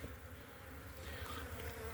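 Honey bees buzzing steadily inside a hive of mixed-colour bees, a dense close drone with no talk.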